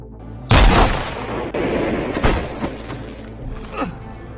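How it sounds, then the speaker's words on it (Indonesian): A loud gunshot in an action film bursts out suddenly, followed by echoing booms and a few sharper cracks fading over the next seconds. "Barry ditembak oleh Jimmy, yang ternyata masih hidup"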